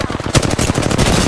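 Machine gun fire in a first-person shooter video game: a loud, close, rapid burst of gunshots that keeps going for over a second with no pause.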